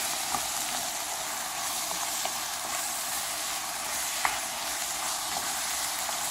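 Ground meat and grated tomato sizzle steadily in a pan, a continuous close frying hiss with occasional small pops and no talking.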